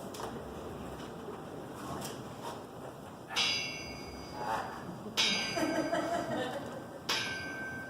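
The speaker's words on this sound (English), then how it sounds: "Suddenly, as they stood together in an open place, the bells struck 12." A bell tolls slowly, three resonant strikes roughly two seconds apart, each leaving a lingering metallic ring over a soft background.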